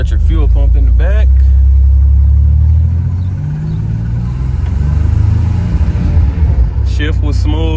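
Turbocharged 1986 Oldsmobile Cutlass on the road, with a steady loud engine and turbo rumble that rises and eases as the car accelerates, a voice talking over it near the start and again at the end.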